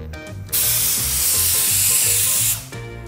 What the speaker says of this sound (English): Wait for the steam and one whistle and we switch off.